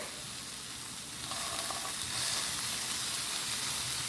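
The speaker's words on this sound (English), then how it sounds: "I'm going to go ahead and add about 1 tablespoon of butter" A tablespoon of butter sizzles in a hot pan beside a well-done steak, a dense, loud, continuous hiss that swells and grows stronger partway through, with no voices.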